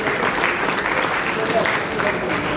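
Congregation applauding at a funeral service, a dense, steady wash of clapping for a few seconds with voices mixed in underneath.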